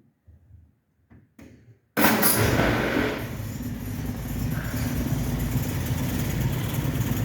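Classic car engine catching after a few quiet clicks, roaring loudly at the start, then settling into a steady, close, even idle.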